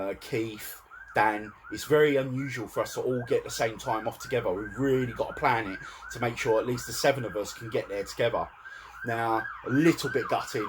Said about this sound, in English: always get police sirens outside on the main road